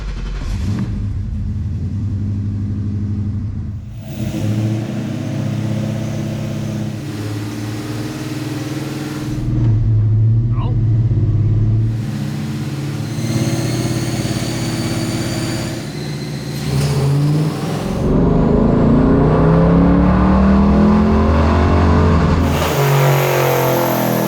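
A Ford Godzilla V8 crate engine with cold air intake and exhaust revs through a fourth-gear dyno pull, loud, steady and rising in pitch over about twenty seconds with brief gaps between gear or throttle changes.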